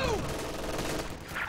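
Machine gun fire from an MG42 in Company of Heroes 2, a dense rattling burst of distant battlefield shooting across the whole moment, mixed with other combat noise and no voices.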